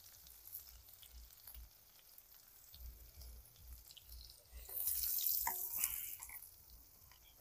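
Mutton fries in a kadhai over a village wood stove with a quiet, distant sizzle, low rumbling underneath and a brief brighter hiss in the middle.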